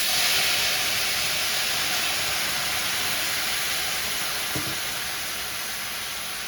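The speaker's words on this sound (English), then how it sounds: "We're gonna use that to just kind of deglaze the pan." Half a cup of brandy hits a hot pan of mushrooms for a mushroom and wild rice risotto, giving a loud, continuous hiss and sizzle that slowly eases off. One faint clunk is heard partway through.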